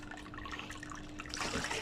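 Water from a channa fish aquarium is poured out, starting as a faint trickle and dripping before swelling into a louder splashing gush near the end, close by with no talk.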